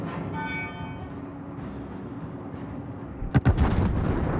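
Naval guns fire in a warship video game, a low rumbling background giving way to a sharp cluster of heavy booming shots near the end, loud and close.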